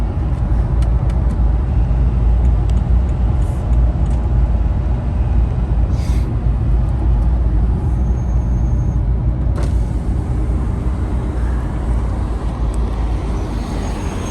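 A car driving hard on a track, with a loud, steady engine and road roar that holds throughout and has no break or talk.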